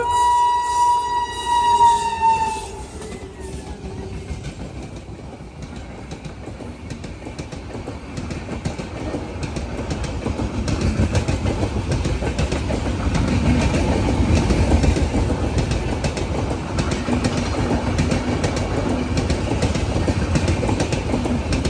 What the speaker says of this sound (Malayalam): വൈകി വരുന്ന മംഗള ലക്ഷദ്വീപ് എക്സ്പ്രസിൻ്റെ ക്രോസിംഗ് ആണ്